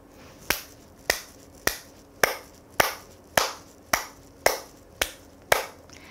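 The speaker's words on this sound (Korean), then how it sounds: "박수치기부터 시작하겠습니다" Ten firm, sharp hand claps at a steady, unhurried pace, each one crisp and close with a short decay, and no voices.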